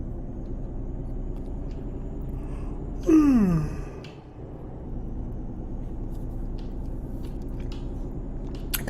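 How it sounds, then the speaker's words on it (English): A single drawn-out yawn rises and falls in pitch over a steady low rumble of a truck cab, lasting about a second before the engine drone carries on alone. "Gotta remember to cover my mouth when I yawn"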